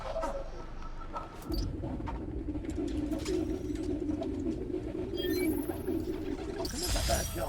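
Pigeons coo in a Spider-Man video game, a low soft warbling call that swells and repeats for several seconds over ambient game sound, with faint chirps and a brighter tone near the end.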